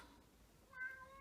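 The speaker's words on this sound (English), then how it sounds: "that's the cat trying to get in" Cat meowing while trying to get in, one short, faint, drawn-out meow in a quiet room.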